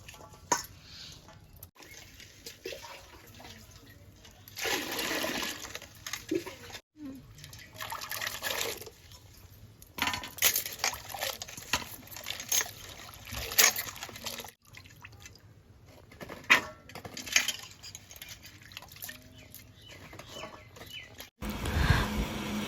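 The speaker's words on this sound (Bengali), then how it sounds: "এই যে এবার আমি ধুয়ে নেব।" Chopped taro stolons being washed with water: intermittent splashing and dripping bursts come and go under occasional talk, with a rooster faintly heard in the background.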